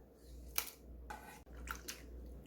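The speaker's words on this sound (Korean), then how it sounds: "채썰은 감자 물에 좀 담궈 줄게요" Julienned potatoes being soaked and handled in water, with a few soft splashing and sloshing bursts separated by quiet pauses, close and faint.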